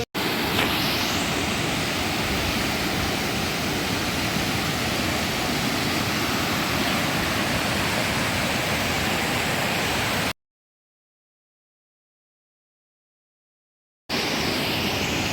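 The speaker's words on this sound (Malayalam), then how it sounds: "ഇത് പഴയരിക്കണ്ണൻ വെള്ളച്ചാട്ടം" The Pazhayarikandam waterfall in Idukki, Kerala, roars steadily in a dense, rushing wash of water, cutting out to silence for a few seconds before resuming.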